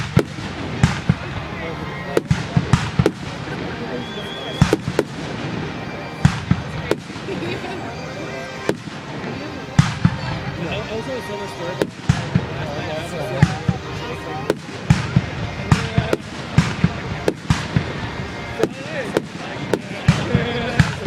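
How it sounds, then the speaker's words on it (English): A fireworks show at the SL Bees baseball field, with sharp booming bursts at irregular intervals, some close and heavy, over a crackling wash, while people talk and react excitedly throughout. "best firework shows ever"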